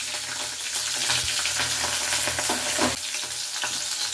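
Green chilies frying in hot oil in a pan, a steady, close, continuous sizzle with crackling bursts throughout, no talking.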